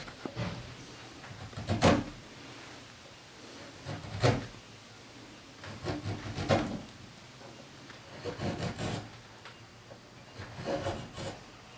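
A hand chisel cuts wood while carving the knuckles of a chair handhold, making several separate scraping, slicing strokes at irregular intervals, close and fairly loud.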